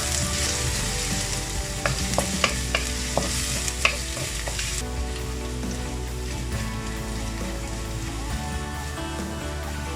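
Garlic sautéing for ginisang upo with ground pork, a steady close sizzle of frying with stirring clatter and a few sharp utensil taps early on, continuous and fairly loud with no talking.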